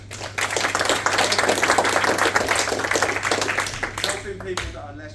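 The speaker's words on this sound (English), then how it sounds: "it's worth another round of applause" A round of applause rises at a lounge gathering and runs steadily for several seconds before tapering off, a moderately close patter of many hands.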